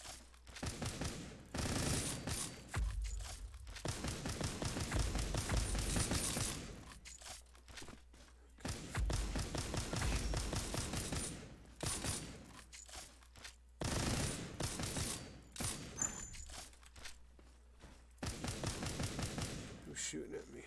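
Gunfire in the sci-fi shooter Earth From Another Sun, dense rapid bursts of automatic shots in repeated volleys separated by brief lulls, loud and close throughout.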